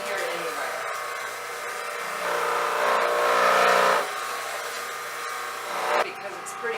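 An electric juicer motor whirs steadily close by, its whine swelling louder for a few seconds midway before settling back to an even drone.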